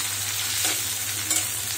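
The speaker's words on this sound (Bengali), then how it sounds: "এখন আমি এটাতে পেঁয়াজ কুচি দিয়ে দিচ্ছি।" Chopped onions frying in hot oil, for a katla fish bhuna, make a continuous broadband sizzle at an even level, close and alone with no talk.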